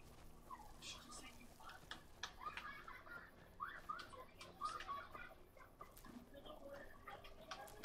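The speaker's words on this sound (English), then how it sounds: "It's a goose." A goose in a video game honks several times in a row, with short nasal calls scattered over a few seconds. The calls are quiet and sit over a low background.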